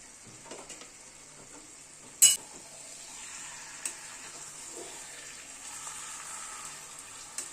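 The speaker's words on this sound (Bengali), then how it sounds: "এবার ঢাকাটা খুলেই আলুটাকে আর একটু মশলার সাথে কষাবো।" Potatoes cooked with spices in a pan give a soft, low sizzle while being stirred, with one sharp clink of the utensil against the pan early on and a few faint scrapes after.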